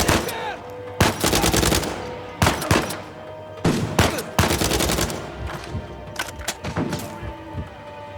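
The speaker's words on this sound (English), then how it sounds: "Who's shooting at me?" Repeated bursts of automatic gunfire from a firefight in Uncharted 4: A Thief's End, loud and close, with rapid volleys and single shots spread unevenly through the stretch and only sparse talk.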